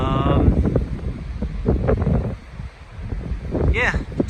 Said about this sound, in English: it is so windy and chilly